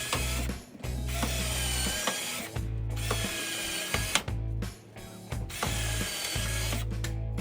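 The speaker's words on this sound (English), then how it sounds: "You wanna pre-drill a couple holes because this skinny wood here is just gonna crack" A power drill whirs in repeated bursts as it pre-drills holes in thin wood, each run a few seconds long and separated by brief pauses and clatter.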